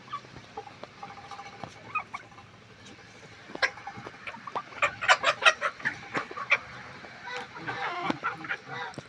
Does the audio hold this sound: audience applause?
no